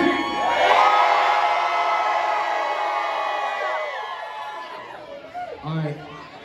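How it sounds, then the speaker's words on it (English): A live concert crowd at a gospel-rap show in Lakeland, Florida, screams and cheers loudly in a sustained roar of many voices, with whoops and shouts that ebb slightly toward the end. "everybody scream on three"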